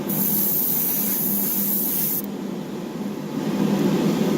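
Airbrush or spray can hissing steadily as gold paint is laid down in a wet coat on a model car, a continuous close spray that cuts off sharply partway and gives way to a softer, quieter hiss.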